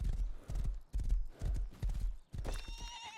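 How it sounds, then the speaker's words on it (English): Horse hooves clop in quick, close bursts in a video game, and a bright whinnying neigh follows near the end, loud and clear with no talk over it. "Oh, the horse just took damage from that?"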